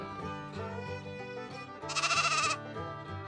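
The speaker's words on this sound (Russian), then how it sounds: "Это овца. Она блеет." A cartoon sheep, a domestic farm animal, gives one wavering bleat lasting under a second, loud and close above steady background music.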